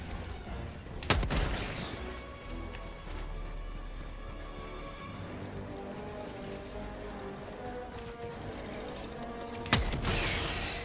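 A weapon firing explosive area-effect rounds in the Helldivers 2 video game, two sharp blasts about eight seconds apart with mechanical clatter and rumbling battle noise between them.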